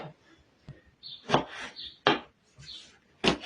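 A knife chops peppers on a cutting board, a few uneven thudding cuts close by and moderately loud, with soft rustling between strokes.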